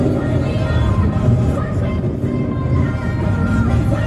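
A supercharged BMW E34 roars at full throttle down a quarter-mile drag strip at Bimmerparty 2023, the engine noise a loud, dense, continuous rumble with no pauses.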